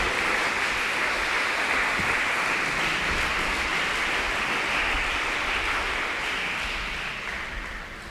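A church congregation claps loudly in a dense, steady roar of applause that fades slightly toward the end.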